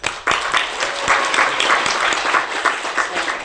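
Applause from an audience of elderly people at a rally, dense steady clapping with sharper individual claps standing out throughout, fairly loud and close with no talking.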